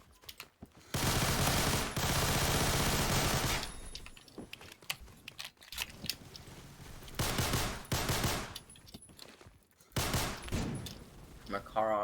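Makarov pistol fire in the Phantom Forces shooter game, rapid bursts of close, loud shots in clusters separated by brief pauses, with voice audible between.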